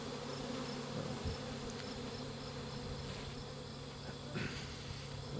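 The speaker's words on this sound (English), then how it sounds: "these bees don't seem to care which hive they go into" Honey bees swarm around their hives in a dense, steady, low buzzing drone that goes on without a break, with a few individual bees flying close past. No one talks.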